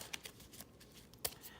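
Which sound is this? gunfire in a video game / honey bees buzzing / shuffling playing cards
shuffling playing cards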